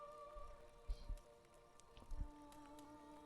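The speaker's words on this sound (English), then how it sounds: "Probably all this rain noises." Light in-game rain patters steadily in Witcher 3, with a few soft drops and thuds over a faint steady hum, quiet and close.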